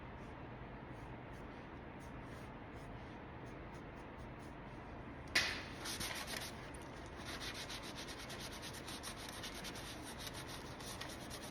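A cotton swab rubs paint onto the surface of a paintable box, a soft close scratchy rubbing that starts faintly and grows denser and more continuous after a brief bump midway.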